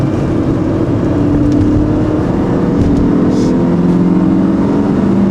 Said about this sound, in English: downshift to second, and let the engine pull the car out